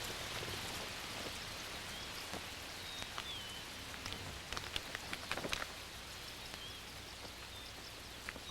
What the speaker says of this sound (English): The rains have come from the south